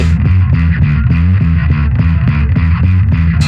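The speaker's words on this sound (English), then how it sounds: "even with a distortion on, you're playing something" A distorted bass guitar plays a riff from a song in a thick, driving repeated pattern of loud, rhythmic notes with no talking.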